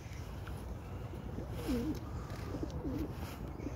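A pigeon coos outdoors in two soft, low, rolling phrases over a steady background murmur, heard fairly close but quiet.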